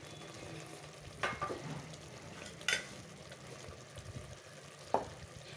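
Spices being stirred into a drumstick and potato curry as it fries in the pan, with a low steady sizzle and a few soft scraping clinks of the spoon against the pot.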